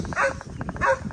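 A male Labradoodle, one of several kept apart from females in heat at a water-garden property, gives two short, sharp barks or yelps close by, with a quieter rustle between them.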